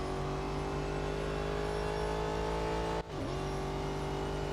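Race cars in the Real Racing 3 mobile game drone steadily with layered engine whine, cutting out briefly near the end before the roar picks up again; no voices.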